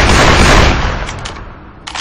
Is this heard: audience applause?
no